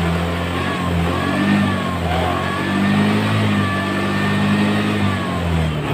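A Honda Beat FI scooter engine held at a steady idle-to-mid rev, a continuous close humming drone that swells slightly as the throttle is opened, loud and alone without speech.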